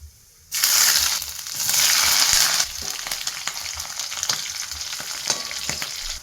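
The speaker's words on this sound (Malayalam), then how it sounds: "എണ്ണ ചൂടായിരുന്നു, നമുക്ക് കടുകിട്ട് കൊടുക്കുകയല്ലേ" Mustard seeds dropped into hot oil for upma give a sudden loud sizzling burst after a quiet start. It settles into steady crackling and popping with scattered sharp ticks.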